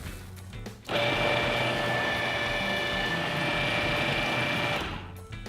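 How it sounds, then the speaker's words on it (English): A blender purees creamy avocado salsa verde with the lid locked on, a loud, steady motor whir with a high whine that starts abruptly, runs evenly for about four seconds and then cuts off. "lock the lid back in place and puree the salsa until we have a really smooth texture"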